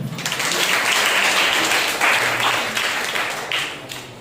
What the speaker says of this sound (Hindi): आइए हम लोग उस सच्चे और जिंदा परमेश्वर के लिए जोरदार तालियां हो जाए